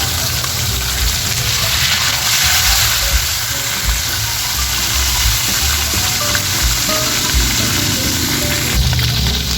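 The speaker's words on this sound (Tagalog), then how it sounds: "At habang tayo ay nagpiprito pa dito guys" Fish sizzling steadily in hot oil in a pan for a provincial home-cooked dish, a dense continuous crackle with occasional louder spits, close and loud, with no talking.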